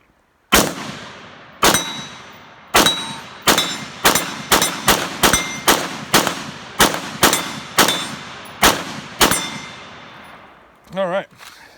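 An IWI Tavor X95 rifle in 5.56 NATO fires a magazine outdoors: about fourteen sharp, loud shots at an irregular, fairly quick pace, each with a ringing metallic decay, followed by a brief muffled clatter.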